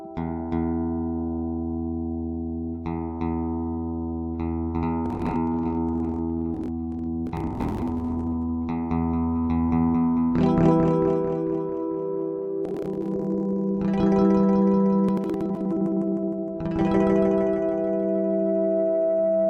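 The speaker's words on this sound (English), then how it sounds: "the digital delay, which is another effect I really never use too much, is so easy to accidentally set to some extreme that it gives you that dub reggae sound" A cheap Behringer FX600 multi-effects pedal set to extreme digital delay turns plucked guitar notes into long dub-style echoes that repeat, sustain and pile into droning, feedback-tinged tones, with no voices.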